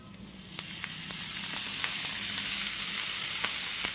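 Finely chopped chickpea leaves dropped into a hot pan, a sizzle that swells and then holds steady, dotted with sharp crackling pops, up close and without speech.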